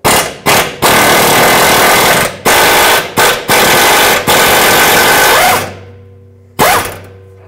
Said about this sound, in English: I put my tool in here with a 15mm. Let's remove the bolt.